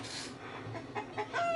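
Chickens cluck faintly in a TV show scene, with short clucks and chirps over a low murmur of background noise.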